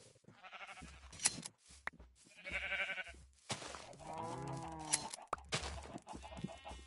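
Minecraft sheep bleating in the video game, several wavering, nasal bleats in a scattered sequence over a gentle background, close and fairly quiet, with no talk.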